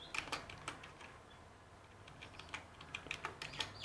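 Quick bursts of typing on a computer keyboard, with irregular clicky keystrokes in short runs and brief pauses, heard close and quiet with no talk.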